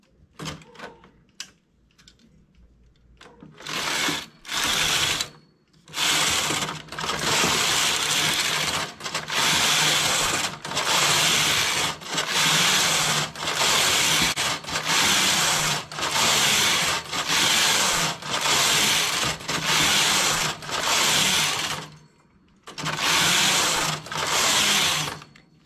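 Knitting machine carriage running in repeated loud passes, about a dozen back-and-forth strokes with brief pauses between, close and alone, while knitting a legwarmer with multiple yarn colors.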